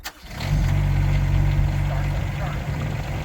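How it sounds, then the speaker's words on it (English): A Rippa R15 mini excavator's engine cranks and fires up, then settles into a steady, loud, close diesel rumble that holds for the rest of the clip. "You can hear as the electric fuel pumps are working to prime the engine, and now we'll turn the key to right."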